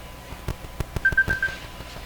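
A telephone rings briefly in a workshop during a Hallicrafters radio alignment: a short warbling electronic trill amid scattered clicks and knocks, fairly faint, with no talking.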